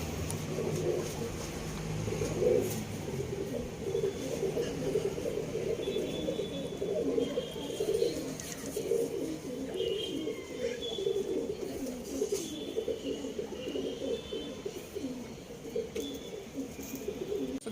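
Steady low cooing from pigeons in a home loft housing Chatial pigeons, a continuous soft murmur with faint higher chirps and little talk over it.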